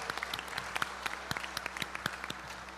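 Church congregation claps in praise during worship, a steady wash of applause with distinct sharp individual claps close by, at moderate volume.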